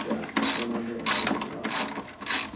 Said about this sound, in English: doing the final hand torquing